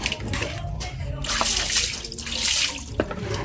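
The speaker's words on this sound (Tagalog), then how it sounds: "So buhusan muna natin ng tubig to." Water is poured over a part during a tire hugger install on a Honda Click 160 scooter, a steady close splashing wash that runs throughout with faint drips.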